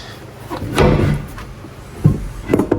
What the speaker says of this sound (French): C'est le matériel qui se casse la figure.